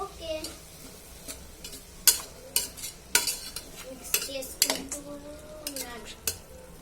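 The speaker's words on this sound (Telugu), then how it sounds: "ఇప్పుడు అన్నీ వేసి ఇలా మిక్స్ చేసుకోండి." Sweetcorn snack mixture is stirred in a pan, with a utensil clinking and scraping against the metal in irregular bursts over a soft sizzle.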